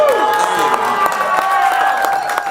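Brief, dense crowd applause with some cheering at a jazz show after a banjo solo, steady and close, with a sustained instrumental tone underneath.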